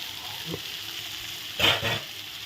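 Soybean curry masala with mustard paste, green chillies and potato fries in a pan, a soft steady hiss broken by two short bursts of stirring.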